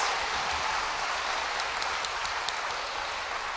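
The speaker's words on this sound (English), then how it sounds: "one more round of applause for our 8th grade head of school list" A school audience applauds the 8th grade head of school list at a middle school awards assembly, a steady dense wash of clapping that holds evenly throughout.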